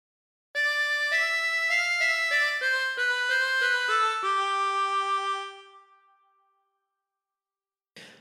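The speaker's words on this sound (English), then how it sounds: "practice this until you end up with something that sounds like this" A harmonica plays a short phrase of God Defend New Zealand, a series of clear sustained blown and drawn notes in a slow melodic line that fades out, followed by a brief faint breathy note.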